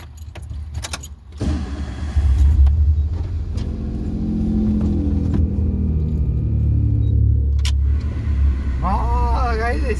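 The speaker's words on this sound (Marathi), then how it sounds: "पहिला AC लावणार गाडी चालू करून." A car engine starts up and settles into a steady, low idling rumble that continues to the end, with a short high warbling electronic tone near the finish.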